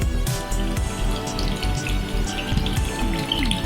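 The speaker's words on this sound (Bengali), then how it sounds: "এইবার দিয়ে দেবো জল" Water pours steadily into a bowl of besan, yogurt and turmeric mixed for Bihari kadhi, a close, continuous splashing trickle with no one talking.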